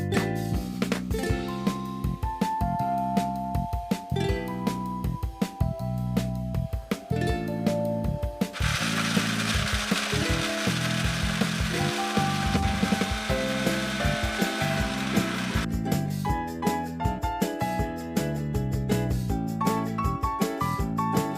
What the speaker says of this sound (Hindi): ये देखिए मैंने मसाला पीसा है।